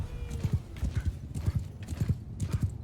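Galloping horses in the Bannerlord video game, rapid rhythmic hoofbeats in repeated clusters, close and clear, with a brief whinny.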